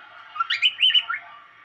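Pet cockatiels kept in a cage give a quick run of bright chirps and tweets, a handful of close, fairly loud calls bunched together over a low steady background.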